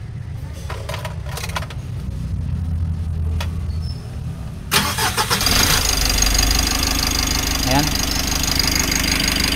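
A Mitsubishi L300 with a Euro 4 4N14 diesel engine cranks, catches midway and settles into a steady rumbling idle, with someone speaking over the first part.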